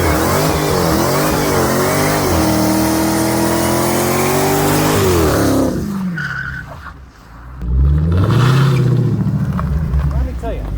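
A wrecked Dodge Hellcat Challenger engine revs hard and accelerates loudly up close, a rising and falling roar that briefly drops away before surging again with tire noise.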